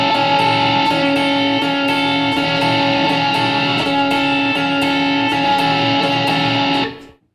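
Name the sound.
guitar with Compulsive Drive pedal toggled on Line 6 Helix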